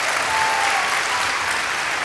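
Audience at a Sunday church healing and miracles service breaks into sustained, loud applause, a dense wash of clapping filling the whole stretch with no talk over it.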